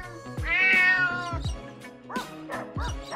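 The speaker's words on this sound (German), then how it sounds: "Gerade untersucht sie in der Katzenpension den Kater Cleo" A tomcat at a cat boarding house in a German Playmobil film meows several times up close, one long drawn-out wail followed by shorter, clipped meows with brief pauses.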